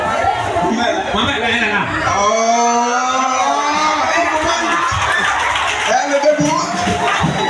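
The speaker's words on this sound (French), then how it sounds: "Acclamons pour elle." A church congregation cheers and acclaims a woman, a sustained wash of crowd voices, shouts and whoops filling the room, loud and close, with a voice speaking over it.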